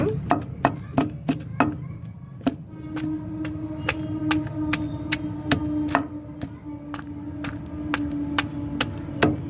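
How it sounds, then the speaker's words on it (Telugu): Repeated pounding of white onions into a chutney with a stone mortar, sharp rhythmic thuds, fast at first, then steadier strikes over a low hum. "ఇట్లా పచ్చట్లో దంచితేనే రోట్లో బాగుంటుందండి"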